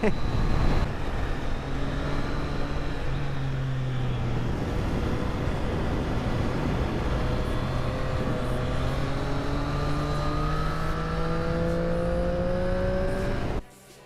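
Triumph Street Triple R motorcycle accelerating hard, its engine note climbing steadily through the gears in long rising sweeps, loud and close for the whole stretch before cutting off abruptly at the end.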